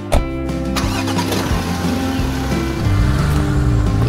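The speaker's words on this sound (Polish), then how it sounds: "Panienko Suzy, proszę zająć miejsce w limuzynie. Dziękuję bardzo. Możemy jechać" A limousine engine turns over and catches, settling into a steady mid-pitched idle hum, up close and running alone with no voices.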